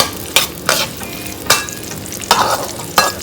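Sliced shallots and spices dry-roast in a pan, with crisp scraping strokes from the stirring arriving at a fairly regular pace, about every half second, close and clear with no talking.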